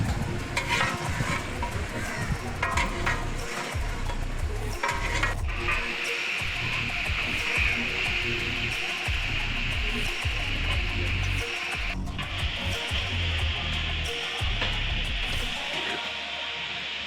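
Beef bhuna frying with spices in a pan and being stirred, giving a steady, loud sizzle with repeated scraping and stirring strokes throughout, no talking.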